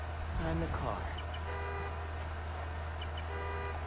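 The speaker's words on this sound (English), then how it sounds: "The more annoying the horn gets, closer I am." A car horn honks in the Spider-Man: Miles Morales video game, with a couple of short tonal blasts over a constant low engine-like drone and busy game ambience.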